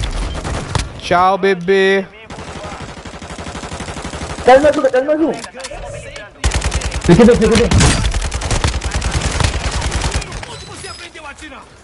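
MP5 gunfire in a Call of Duty match: rapid, loud automatic bursts in several long strings, with a voice talking and exclaiming between and over the shots.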